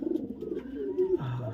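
A pet bird coos close by, a few low, soft, drawn-out calls following one another in a slow rhythm, with the last note dropping lower.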